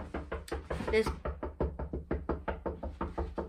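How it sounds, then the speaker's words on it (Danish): Someone knocks on a door in a rapid, repeated run of sharp raps. The knocks go on steadily under people talking in Danish. "Hvorfor bliver han ved med at banke?"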